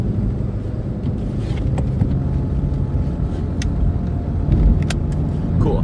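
From inside a car driving on a road, a steady low engine and tyre rumble with light wind noise continues for about six seconds, with occasional small clicks and bumps and no voices.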